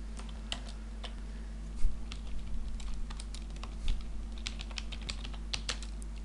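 Typing words on a computer keyboard: irregular light key clicks in quick bursts, fairly close and clear over a steady low electrical hum, with no talking.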